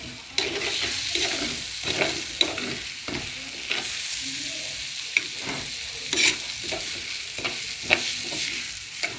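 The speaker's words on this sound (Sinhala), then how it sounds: "හොඳට තෙලේ ලුණු ටික බැදෙන්න ඕනේ." Onions frying in oil as they are stirred, a constant close sizzle punctuated by regular clinks and scrapes of a spoon against the pan.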